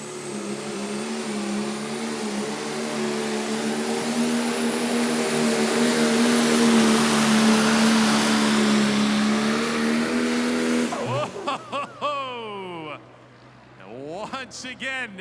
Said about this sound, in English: Running that tractor down through there like a bucking bronco.